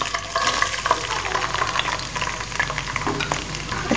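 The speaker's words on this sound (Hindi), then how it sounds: "अब हम इसके अंदर 1 बड़े साइज का लार्ज अनियन कटिंग किया हुआ ऐड करेंगे।" Large chopped onion frying in hot oil gives a steady crackling sizzle close up, with faint stirring scrapes throughout.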